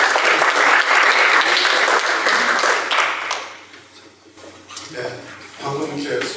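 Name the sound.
audience applause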